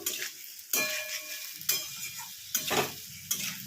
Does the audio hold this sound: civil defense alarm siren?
no